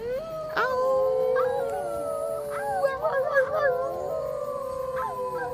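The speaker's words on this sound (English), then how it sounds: "they all howled plaintive cries for help" Several dogs howl together in long, wavering, overlapping cries that rise and fall, loud and close.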